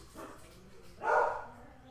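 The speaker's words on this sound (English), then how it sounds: "And I got a dog flipping out." A dog barks twice indoors, a short softer bark followed by a louder one, with faint background sound between.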